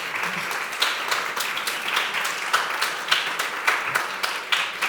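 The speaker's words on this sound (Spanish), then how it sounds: "yo os agradezco los aplausos" An audience applauding at a public talk on the future of work, steady crowd clapping with scattered louder claps throughout, moderately close.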